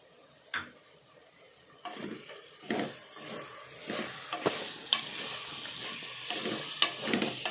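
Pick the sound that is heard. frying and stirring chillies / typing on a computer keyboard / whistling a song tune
frying and stirring chillies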